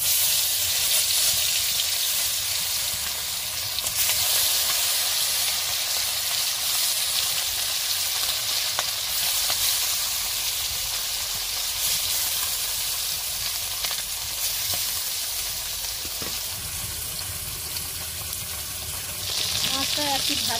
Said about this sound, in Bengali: তেল গরম হয়ে গেছে, এবার এর মধ্যে দিয়ে দেবো মাছ।